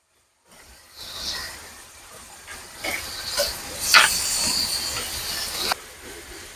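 Marinated mutton sizzles into a hot kadai, a steady loud hiss that swells after the first second and holds with a few sharper spits and crackles, no talking.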